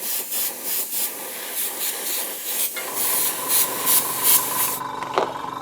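Spray paint can dusting light coats of black onto stencil pieces for a tabletop wargame landing pad, short soft hissing passes with brief rubbing and handling noises between them, close and quiet, no talking.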